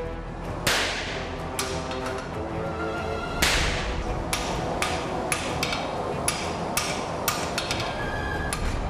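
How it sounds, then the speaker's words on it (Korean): A smith forges knife steel, hammering it over and over. Sharp metallic strikes ring out at an irregular, steady pace, some heavy and some lighter, close and loud against a busy workshop background. "화로에 넣었다 빼기를 수십 번, 망치질은 수백 번도 넘게 계속된다."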